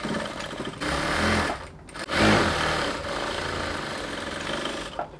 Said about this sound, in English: so I'm going to close the side of my dress with ½ inch all the way down